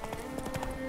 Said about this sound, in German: Oh, wilde Pferde.